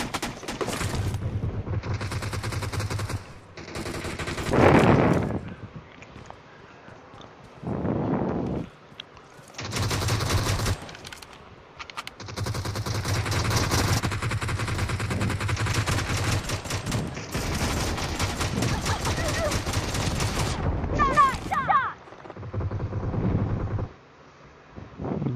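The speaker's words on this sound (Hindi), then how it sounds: "अरे भाई कितने की गोलियां मारा मैं" Bursts of in-game gunfire from a Garena Free Fire battle, repeated volleys and rapid automatic fire filling most of the stretch with short gaps, loud and close over steady wind-like game noise.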